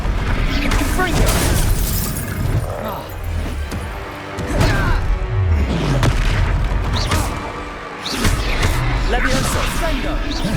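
Fire spell blasts during a wizard duel in Hogwarts Legacy, loud booming bursts and crashes amid dense game effects and music, with spoken spell incantations over the top.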